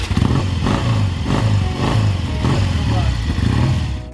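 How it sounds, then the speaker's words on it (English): A 1968 Triumph T100C vintage motorcycle engine idles and burbles steadily up close, with a rhythmic low pulsing throb throughout and some voices talking over it. "this old girl, my 1968 Triumph T100C"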